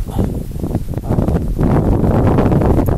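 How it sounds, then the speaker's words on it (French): Strong outdoor wind gusts buffeting the microphone during airsoft testing near a playground swing, a loud continuous low roar and rumble with surging gusts, close and unbroken throughout. "sachant qu'aujourd'hui il y a un très grand vent"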